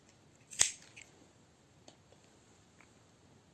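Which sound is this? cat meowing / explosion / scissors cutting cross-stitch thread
scissors cutting cross-stitch thread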